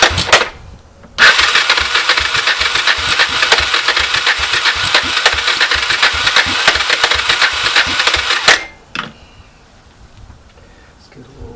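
An abandoned 1985 Honda ATC, choked while cold, fires up outdoors and runs with a loud, uneven, rattling idle for about seven seconds before stumbling and dying, followed by faint lingering noise.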